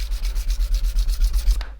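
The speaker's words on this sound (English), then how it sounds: "I want to file and then sand in this direction." Steady back-and-forth rasp of a file and sandpaper working a metal surface being prepared for bluing, with close, rhythmic strokes about six per second that stop abruptly near the end.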